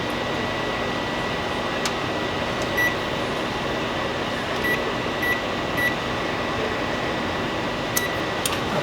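Steady whirring drone of an oven fan running as the oven preheats to 375 degrees, constant and moderately loud throughout, with a few faint short beeps scattered over it.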